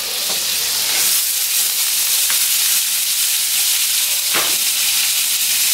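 Bourbon onions and jalapenos fry in butter and a little oil on a Blackstone griddle, giving a loud, continuous close sizzle with a few scraping clicks of a spatula.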